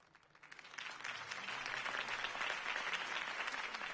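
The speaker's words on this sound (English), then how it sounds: "could have heard that applause" An audience applauds after a campaign speech, clapping swelling quickly from quiet to a dense, sustained ovation that continues to the end, fairly distant.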